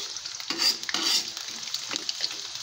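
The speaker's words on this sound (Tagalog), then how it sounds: "uminit na, lagyan na natin ng bawang" Garlic hits hot oil in a pan for adobong sitaw with tofu, a soft sizzle broken by several stirring scrapes, close and moderately loud, without talking.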